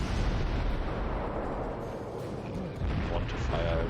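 Warship guns fire shells in World of Warships, heavy booming blasts and rumbling reports rolling over a dense, loud battle soundscape, with a few brief bursts standing out in the middle.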